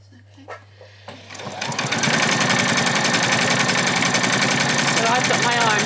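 A sewing machine starts up after a few quiet handling sounds and then runs loud and steady, stitching an apron close by.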